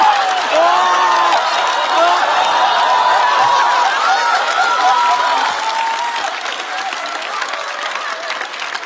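Audience applause at a Chinese roast comedy show: dense, steady clapping from a crowd with tonal voices or music running over it, holding loud before easing off slightly near the end.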